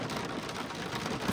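Steady rain falls outdoors on Monte Palodina, a dense, even patter of drops filling the whole moment at moderate loudness with no voices.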